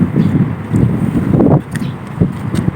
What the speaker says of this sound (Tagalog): Mahangin dito eh. Lalo paggabi.